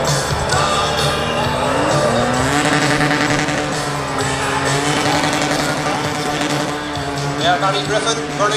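Loud, continuous roar of a Red Bull Formula 1 car at a street showrun in Belfast, screeching tires spinning as it burns rubber, a crowd and commentary blending underneath.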